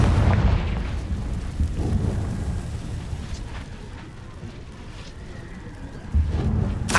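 A Confringo spell blast in Hogwarts Legacy rumbles heavily, opening with a booming hit and sustained roar that eases, then a second strong boom near the end.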